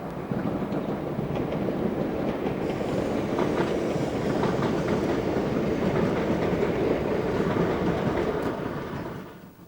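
British Rail Class 33 locomotive hauling a train on a route-learning trip, a loud continuous rumble and rail clatter that builds in, holds, then fades away at the end.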